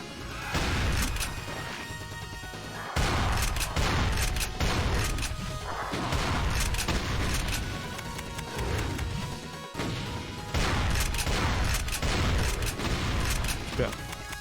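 Weapon fire in the video game Doom II: loud, dense bursts of blasts and crashes repeat over several seconds, with someone talking over the shooting.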